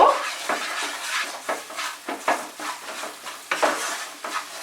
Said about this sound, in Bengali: মশলাটাকে ফ্রাই করব